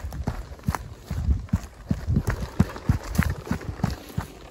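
Quick, heavy footsteps in a fast running rhythm on an outdoor surface, close by and fairly loud against faint background hiss.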